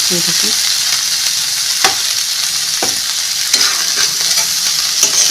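Jackfruit curry with potato is stir-fried slowly in a pan under a loud, steady sizzle, with occasional spoon scrapes and knocks against the pan.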